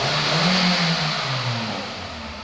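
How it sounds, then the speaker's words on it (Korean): Hyundai Accent 1.4 VVT engine on a used car, revved up and let back down: a close, loud engine note climbs smoothly, holds briefly, then settles lower without any stumble. "잘 올라갔다가 정확히 내려서 지금 RPM 뭐 떨리는 거 이런 건 없어요"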